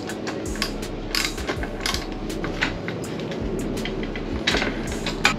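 A ratchet turns a half inch socket on a lock nut fastening a van ladder, giving close, rapid clicking with a few sharper metallic clacks scattered through steady rustle.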